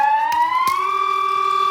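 An emergency alert tone imitating an ambulance siren rises steadily in pitch, loud and alone, with a couple of faint clicks behind it.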